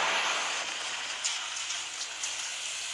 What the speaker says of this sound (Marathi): आला आला आला पाऊस आला पाऊस आला पाऊस आला.